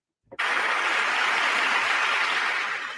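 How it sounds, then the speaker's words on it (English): Applause erupts abruptly and holds as a dense, steady wash of clapping for the rest of the moment, loud and close, from an audience. "All right, round of applause for you."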